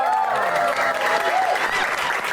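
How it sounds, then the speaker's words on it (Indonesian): A studio audience at a comedy show breaks into loud, dense clapping with some cheering voices, steady for the whole short burst. "tepuk tangan dulu dong"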